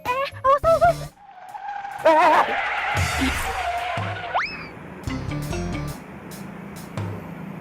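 A car scraping along another vehicle in a sideswipe, heard as a brief squealing skid and a rising metallic screech amid scattered thuds and clatter, fairly close and loud, with no talk.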